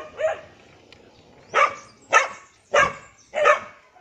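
A dog barks five times, nearby and moderately loud, with one isolated bark followed after a pause by four evenly spaced barks in quick succession.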